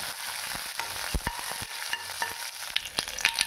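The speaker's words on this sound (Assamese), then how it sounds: "মই ইয়াত প্ৰথমতে নৰসিংহ পাত দি দিছোঁ আৰু কেইটামান সৰিয়হ গুটি দি দিছোঁ।" Curry leaves and mustard seeds sizzling in hot oil on a hot tawa, a soft, steady frying hiss with scattered small crackles and pops, no voices.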